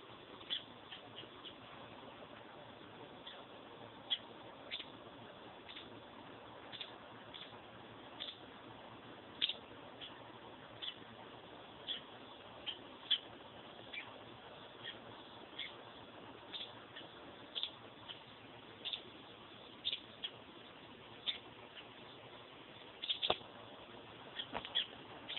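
Robins call in sharp, repeated chips scattered steadily over a low, hissy outdoor background, fairly faint and at a distance, with no talk.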